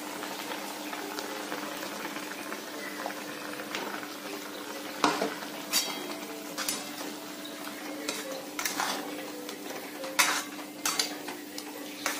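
Ground masala paste goes into fenugreek leaves frying in an iron kadhai, with a steady sizzle and bubbling and a few louder scrapes and clinks of a spoon against the pan.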